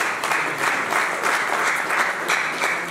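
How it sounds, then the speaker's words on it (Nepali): An indoor audience claps steadily at a Rotary International fundraising event to end polio, dense continuous applause without pause for a few seconds. "ताली दिनुहोस् आफ्नो लागि"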